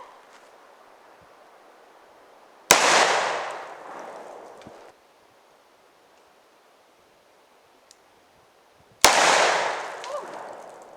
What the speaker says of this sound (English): I want to watch you shoot it. Oh! Holy shit! That's the light rounds!